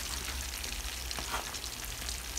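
Constant oily sizzling and crackling of fermented fish frying in a hot pan, with a couple of brief spattering pops, no voices.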